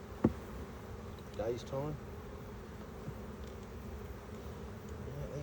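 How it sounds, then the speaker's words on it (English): Honey bees buzzing around an opened hive during a beekeeping inspection, a low continuous drone close by, with a few short voiced words and small handling knocks over it. "these bees are certainly letting me know"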